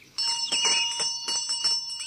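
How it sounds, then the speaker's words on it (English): A doorbell sound effect in an audiobook, a bright bell ringing in several quick repeated strikes with a sustained metallic tone, heard alone. "and Wilfred tugged on the bell"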